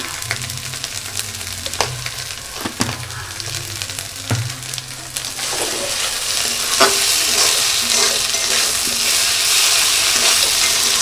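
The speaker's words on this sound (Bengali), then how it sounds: "লবণ হলুদ দিয়ে আমি আলু কষিয়ে নিচ্ছি।" Potatoes sautéed with salt and turmeric in a pan give a close, steady sizzle, with a few sharp utensil knocks early on. The frying noise swells louder toward the end.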